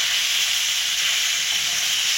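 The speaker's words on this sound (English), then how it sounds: "Just give a thorough mix." Poha sizzles and fries in a hot pan as it is stirred, a steady, close hiss with no talking.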